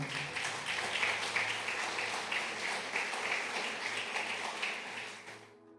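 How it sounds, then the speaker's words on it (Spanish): A church congregation applauding the Lord during a sermon: soft, continuous clapping over a low hum, fading out at the close. "Dele un fuerte aplauso al Señor."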